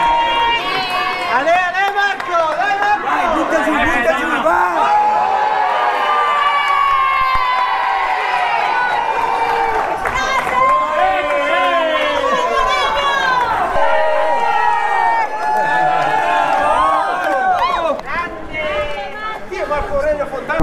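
Spectators cheer and shout at the Strade Bianche finish in Piazza del Campo, Siena, a loud, dense crowd roar with whistles and chatter that holds for about twenty seconds as a gravel race ends.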